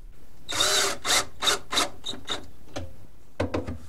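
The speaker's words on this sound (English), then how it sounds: "I'm going to pre-drill that hole and put a screw in" A drill pre-drills a pilot hole for a screw while building a wooden shop cart and assembly table, sounding as a series of short, rasping, close bursts separated by brief pauses.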